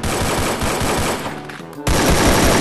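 AK47 fire in Garena Free Fire, a loud dense burst of rapid automatic shots that briefly breaks off, then resumes at full intensity.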